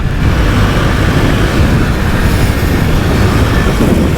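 A 2023 KTM RC 390 motorcycle accelerating through bends with its quick shifter, a steady loud engine roar with dense rumble and wind noise throughout, no clear pauses.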